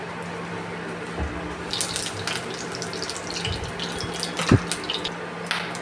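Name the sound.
mustard seeds popping in hot coconut oil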